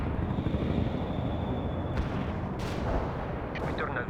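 Artillery barrage striking in the World in Conflict video game, a low rumbling roar of distant blasts with a few sharper bursts and crackles near the end, fairly faint and steady.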